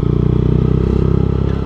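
Loud motorcycle exhaust idling close by, a fast, even burbling pulse with a rough, clattery edge, steady throughout.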